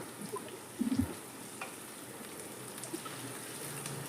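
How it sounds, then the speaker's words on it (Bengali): Ginger and green chillies fry in hot oil, a faint, steady sizzle with a few soft clinks near the start. "কত সুন্দর ভাজা হয়ে গেছে আদা কাঁচা লঙ্কা, খুব সুন্দর ভাবে ভাজা হয়ে গেছে।"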